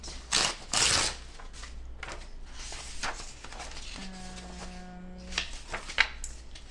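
A page being torn from a collage journal, with papery rustling and ripping bursts near the start, followed by softer handling sounds and a brief tonal hum, close up and without speech.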